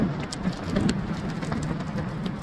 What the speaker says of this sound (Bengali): এই যে এখানে আজকে প্রচুর পরিমাণে বৃষ্টি হচ্ছে